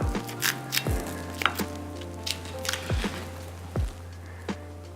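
A knife cuts through an apple crumble cake, a few soft crunchy thuds and crumbly scrapes as the blade presses down and meets the plate, close and fairly quiet.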